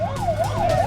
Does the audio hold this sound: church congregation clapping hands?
no